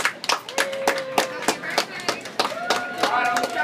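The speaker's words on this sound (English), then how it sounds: "Can we please give her a round of applause?" A small group claps a loose, uneven round of applause for a girl turning seven at her birthday party, sharp hand claps coming close and quick with a few voices calling out among them.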